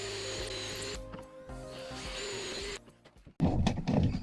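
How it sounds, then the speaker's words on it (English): A power drill bores pilot holes for screws while a canoe seat is being built, with whirring bursts separated by short pauses, then a louder, harsher drilling burst near the end. "I'm going to drill some pilot holes so I can get these screws in"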